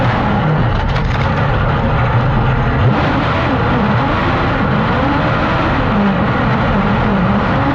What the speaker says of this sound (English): Just listen how sick that rev limiter kicks in.